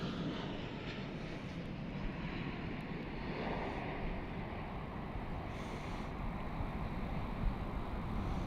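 Norwegian Boeing 737-800 airliner, flight from Barcelona, at Copenhagen Airport, its engines giving a steady, broad roar that holds throughout with some wind noise over the microphone.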